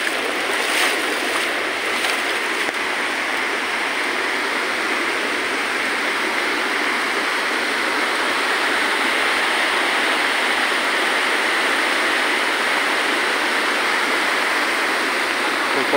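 Swift flood water rushing through a village in Kendal, heard as a continuous loud hiss and roar of fast-flowing water, steady for the whole stretch with no voices.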